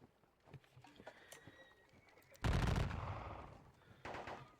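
Musket volleys in a Napoleonic wargame set at Valmy: a loud burst of crackling gunfire erupts midway and rolls on for over a second, with scattered lighter shots before it and another volley near the end.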